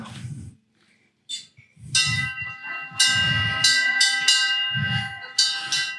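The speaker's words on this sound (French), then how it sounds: "Une cloche." A bell rings in repeated bright strikes, its metallic tones overlapping and lingering, with low thumping or murmuring underneath.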